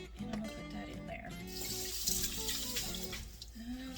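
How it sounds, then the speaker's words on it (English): Filtered water from a jar splashes and gurgles into a cooking pot, a steady pour that grows brighter midway, while a voice talks softly over it. "I'm going to also get a jar of water and put that in here as well"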